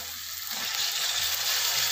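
Tomatoes sauté with green chilli thecha in a pan, a broad hissing sizzle that swells slightly after the first moment and then holds steady, with no voices.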